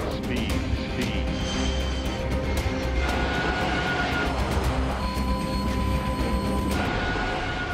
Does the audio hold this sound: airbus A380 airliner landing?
yes